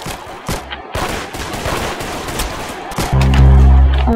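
Rapid gunfire from the Roblox shooter Arsenal, a steady stream of close, loud shots with brief breaks, growing heavier near the end.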